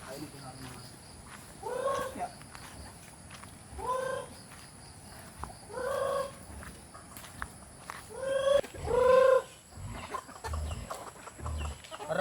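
Several native chickens cluck and squawk in short bursts every couple of seconds, fairly close, over a soft background of insects and faint outdoor noise.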